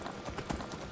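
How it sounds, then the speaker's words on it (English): Horse hooves clip-clop steadily while riding across mountainous terrain in the video game Skyrim, a close, continuous rhythmic patter of hoofbeats heard alone without talk. "And especially on a horse, is actually quite a bit easier."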